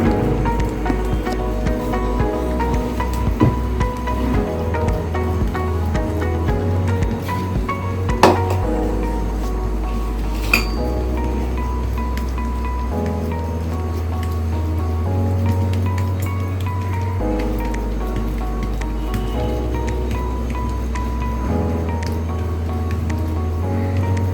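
Hands pat jowar roti dough thin on a wet, oiled cloth, making soft repeated squishy slaps up close over steady background music.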